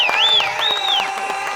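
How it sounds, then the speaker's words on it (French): Guests at a civil wedding clap for the bride, with scattered hand claps under a loud, high wavering ululation-like cry that rises and falls over the crowd. "Applaudissez pour elle."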